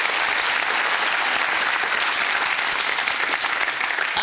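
A studio audience at a game show applauds loudly and steadily, a dense wash of clapping with no break.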